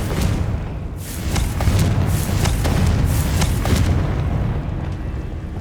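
Confringo blasting-spell explosions in the Hogwarts Legacy video game, several sharp booming bursts over a dense low rumble, loud and close, with no talk.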